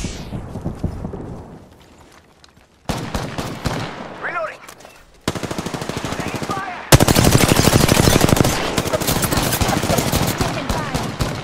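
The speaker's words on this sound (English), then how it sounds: "They're shooting at me! Firing!" Rapid automatic gunfire in the video game Apex Legends, dense repeated bursts that grow louder and more continuous, with a brief quieter stretch early on and a voice speaking.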